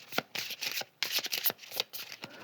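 Oracle cards being shuffled by hand, a quick run of crisp riffling flutters and soft slaps in several bursts, close and fairly quiet.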